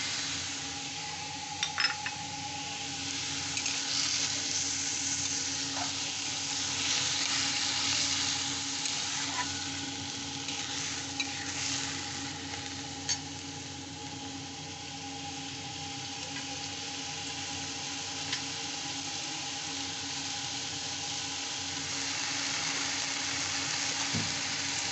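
Spices for mango khichuri sizzling steadily in a pan with salt as they are stirred, a soft continuous frying hiss with faint occasional clinks, no talking.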